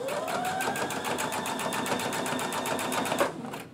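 A sewing machine top stitching chiffon fabric on a refashioned T-shirt runs at a fast, even rhythm of needle strokes, close and continuous, before slowing and stopping near the end.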